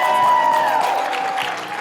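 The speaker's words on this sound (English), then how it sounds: "How about a round of applause for Matt Ferguson as the MC?" Conference audience applauds an MC at a Pecha Kucha session, a dense, steady wash of clapping and crowd noise lasting under two seconds, with a faint tonal hum running beneath it.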